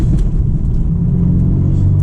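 A BMW M4 Convertible driving in auto mode gives off a loud, steady low engine rumble and road drone, close up and unbroken, with no talking.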